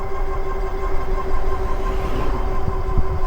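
A Hynox Trooper X fat tire ebike's hub motor under throttle, a steady whining drone with a constant tonal hum over rumbling wind and road noise, loud and close for a few seconds.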